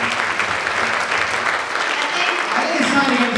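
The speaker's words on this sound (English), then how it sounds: "Give a round of applause for everybody in this room." At an arts benefit night for FTD, an audience gives a full, steady round of applause, dense clapping sustained throughout with crowd voices blending in.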